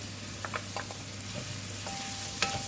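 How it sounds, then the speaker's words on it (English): Onions and green chillies hitting a pan with softened curry leaves for a brinjal stir fry, giving a quiet steady sizzle with a few soft clicks and stirs over a low hum. "now I'm putting in the onions and the green chilli"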